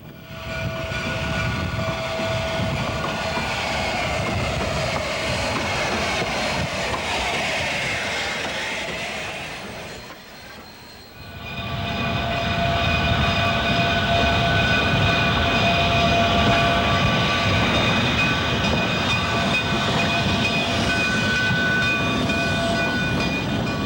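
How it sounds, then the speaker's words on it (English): Narrow gauge trains pull into a terminal with a loud continuous rumble and rolling clatter of cars, a brief dip midway, then a sustained steady roar close by. "As the trains pull in at the end of the trip, another day is done."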